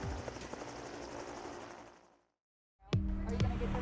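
A military helicopter's steady rotor and engine roar during the Vigilant Guard Utah disaster preparedness exercise, briefly cutting to silence before resuming loudly.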